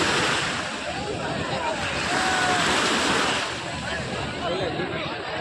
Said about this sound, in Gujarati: આમ ગોથા પાણીના મોજી આવે છે જોરદાર